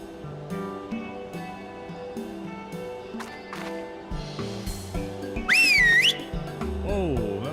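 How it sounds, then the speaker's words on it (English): Very loud whistling rises and falls in a sharp swooping tone, overwhelming game music and sound effects, then dips into lower wavering whistles. "They whistled."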